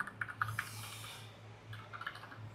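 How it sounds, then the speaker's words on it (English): Someone types an IP address on a computer keyboard, giving a quiet run of light key clicks in short bursts, with a pause in the middle and a few more taps near the end. "So in your Windows PC, type the exact IP address like this."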